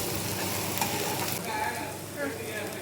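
Capsicum goes into a hot frying pan with mushrooms, setting off a steady crackling sizzle with stirring scrapes, close and fairly loud.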